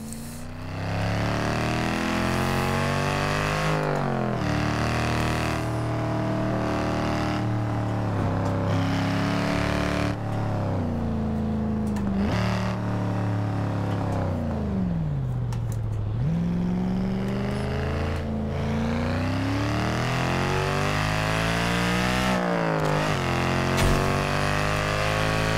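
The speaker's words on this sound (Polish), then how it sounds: "Podobało mi się, jak brzmiał w Forzie Horizon 2, a teraz mogę sobie to przetestować na kierownicy." Mercedes car engine in the Forza Horizon 2 racing game, revving and shifting through gears with rising and falling engine tones, loud and continuous with no talk.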